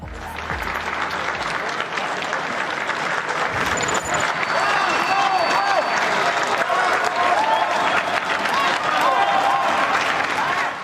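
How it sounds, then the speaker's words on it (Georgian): A hall audience applauds doctors with loud, steady clapping that runs throughout, mixed with crowd noise and some voices. "ბოლოს ტაშის დაკვრა არ დაგვავიწყდეს"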